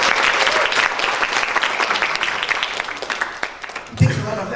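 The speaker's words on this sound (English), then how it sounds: "Let's give her a round of applause" An audience at a business networking summit in Batam breaks into loud, dense applause, clapping steadily before thinning out and fading near the end, with a brief voice at the close.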